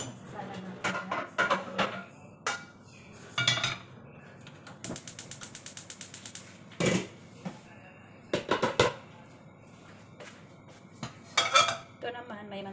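Pots and pans are set onto stove burners for cooking, giving a series of sharp metallic clanks and clatters plus a rapid ratcheting click run, fairly close.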